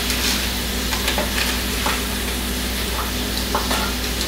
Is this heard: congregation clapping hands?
no